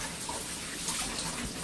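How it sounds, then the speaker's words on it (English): Tap water runs steadily over vegetables being rinsed in a kitchen sink, a continuous close splashing wash with no voices. "rinse away all the water, rinse off the cleaning agent"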